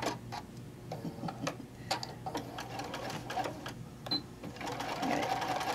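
A sewing machine ticks and hums at a normal stitch length while sewing a camper-print panel cover, a close, rhythmic run of quick clicks that grows slightly fuller toward the end.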